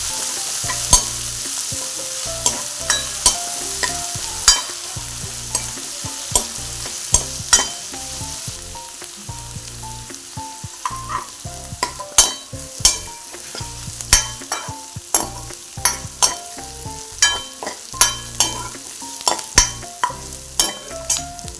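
Green chillies and onions sauté in a pan for a pumpkin and broad bean curry, with a steady sizzle broken by frequent sharp scrapes and clinks of a spoon stirring against the pan, loud and close with no talking.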